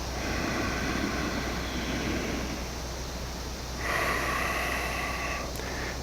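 A deep, slow exhale during a beginner yoga session at home: a long, steady rush of breath close to the microphone, airy and continuous, with a noisy hiss running underneath.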